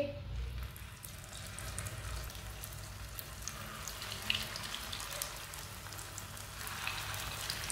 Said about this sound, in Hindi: ऑयल हमारा अच्छी तरह गर्म हो चुका है। अब इसमें कबाब डाल लेंगे।